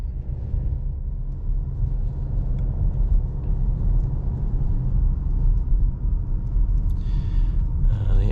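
2022 VW Tiguan with an 8-speed transmission accelerating at full throttle from 25 mph, a heavy, steady low engine and road rumble from inside the cabin, continuous and fairly loud, without speech.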